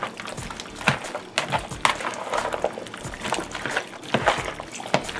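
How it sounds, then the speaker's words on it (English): Mild cheddar cheese being stirred into a squash casserole, giving a steady wet, squelching and sloshing texture with soft scraping throughout, close by and moderately quiet. "You stir it up."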